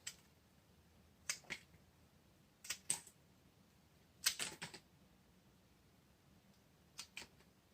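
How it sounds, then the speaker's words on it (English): Leaves being snapped off a Schefflera cutting during pruning and repotting: sparse, crisp little clicks and snaps in small clusters of two or three, close and faint against a quiet room. "Now I'll just defoliate most of the cutting."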